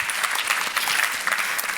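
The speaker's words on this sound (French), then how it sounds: "mesdames et messieurs, vous pouvez applaudir nos invités" An audience at a talk and discussion gives its guests a short, dense round of applause. The clapping is steady and even throughout, with no voices over it.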